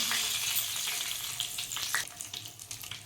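Boiled egg pieces dropped into hot oil for kodi guddu iguru curry, a loud burst of crackling sizzle at first that gradually settles and thins, close by, with no speech.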